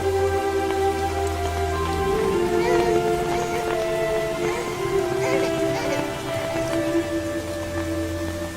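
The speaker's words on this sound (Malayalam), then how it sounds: "മഴയും ഇടിയും മിന്നലും നിറഞ്ഞൊരു വൈകുന്നേരം" Steady rain pours through an evening film scene in the Malayalam movie 5 Sundarikal, a constant wash of falling water blended with a sustained, droning musical tone.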